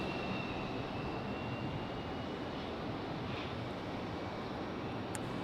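A Delta airliner departing Raleigh-Durham International on runway heading gives a steady, broadband roar that sits at a constant level throughout, with a faint high whine on top and no talk.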